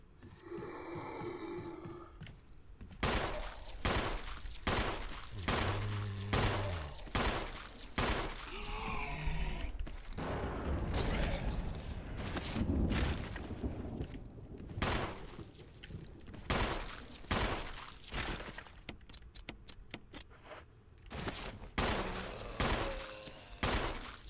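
Repeated gunshots from Resident Evil Remake, a survival horror game, ring out in sharp bursts across a busy stretch of play, some in quick clusters and others spaced apart, with game music and ambience running underneath.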